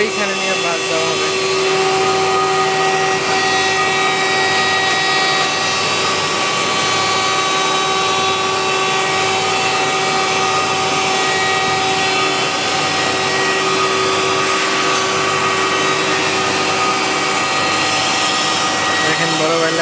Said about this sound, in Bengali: দেখেন অ্যালুমিনিয়াম কীভাবে মেশিনে কাটিং করে, এটা এখানে কাটা হবে